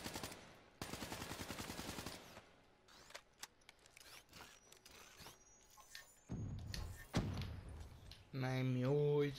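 Automatic gunfire from an M8 rifle in a video game, rapid bursts of rattling shots early on, then scattered clicks and thumps ending in a loud tonal game sound.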